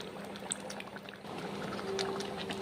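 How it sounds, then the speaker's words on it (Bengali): A spoonful of ghee slides into a pan of cauliflower curry with a soft pour and gentle bubbling trickle, quiet and close, with no voices over it. "এইভাবে এক চামচ গাওয়া ঘি দিচ্ছি ফুলকপির কারিতে"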